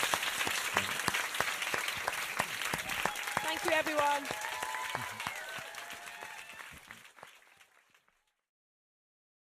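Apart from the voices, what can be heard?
audience applause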